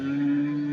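A cow moos at a busy Sunday cattle market in Chintamani, one short, steady low call held for under a second, fairly close and clear with no talk over it.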